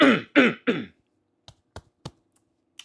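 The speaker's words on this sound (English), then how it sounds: "Sorry about that. Smoker's cough." Three harsh, raspy coughs in quick succession, close and loud, followed by a few faint clicks in quiet.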